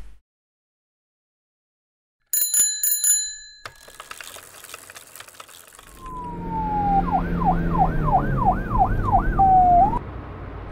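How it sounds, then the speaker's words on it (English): A bicycle bell rings in a quick burst of bright metallic dings, followed by clatter and then a rising, warbling siren wail. "Bicycle."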